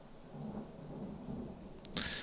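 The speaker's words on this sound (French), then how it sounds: "Il y a de l'orage, je ne sais pas si ça va s'écouter." Thunder rumbles through a storm as a steady, low, moderately quiet roll lasting the whole stretch, with a sharper crackle near the end and no voices.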